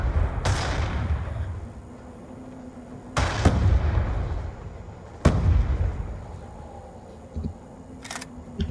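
Gunfire in Black Ops 2 rings out as a few sharp, loud shots spaced several seconds apart, each with a rumbling tail, over a low background hum.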